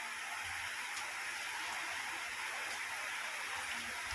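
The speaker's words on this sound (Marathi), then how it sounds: "तिकडे पाऊस पडतोय बघा एकसारखा" Steady rain falls continuously, a soft even hiss with no voices.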